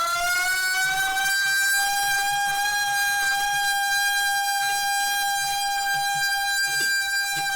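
A loud, sustained horn-like siren holds one steady tone for several seconds, alone and close, with no voices.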